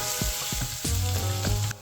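Vegetables and pork belly stir-fry in gochujang, soy sauce and chili flakes, a loud steady sizzle broken by a few scraping stirs close by, with no voices.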